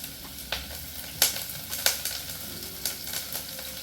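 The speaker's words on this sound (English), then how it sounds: "Then I'm going to add my onions" Onions fry in olive oil in a pot, giving a soft, crackling sizzle spiked by several sharp pops and spatters at uneven moments, close and moderately quiet, with no talking.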